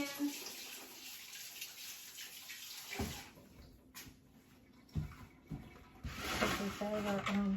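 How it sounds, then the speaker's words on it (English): Water from a tap runs while hands are washed in a home kitchen, a soft steady splashing hiss with brief clunks and breaks, fairly faint, with a voice talking over part of it. "Wash my hands."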